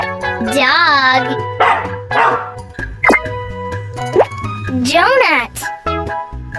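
A cartoon-style dog bark sound effect in a children's alphabet lesson, short yelping barks mixed with bright music and voices.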